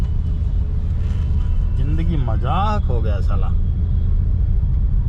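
Steady low traffic rumble of cars on a busy Delhi road, continuous and fairly loud throughout, with someone speaking over it midway.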